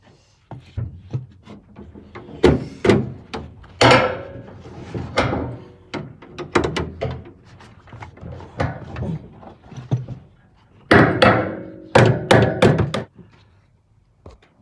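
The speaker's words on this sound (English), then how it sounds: "This time we're going to use an hammer." Hammer blows ring out up close, irregular and clanging, driving a trunk lid torsion spring into place on a Mercedes R107 SL, some in quick bursts and others spaced apart by pauses.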